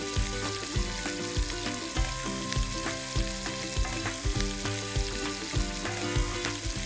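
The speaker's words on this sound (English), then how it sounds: "it's just a matter of letting this fry off nicely and sear off" Pork sizzles and fries steadily in a hot pan for a Portuguese-style pork and clams dish, a dense continuous crackle with regular knocks and scrapes of stirring throughout, close and fairly loud with no talking.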